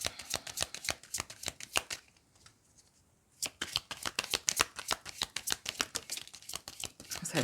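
Tarot cards being shuffled by hand, a quick run of crisp riffling snaps up close, pausing briefly before resuming in a steady rhythmic flurry.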